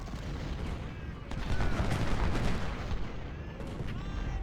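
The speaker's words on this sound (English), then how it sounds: "There's cannons right there. They're about to shoot us." Cannon and musket fire from the video game Ultimate General: Civil War, at the Battle of Gettysburg, day one. Repeated booms and crackling volleys roll over each other in a dense, continuous battle din.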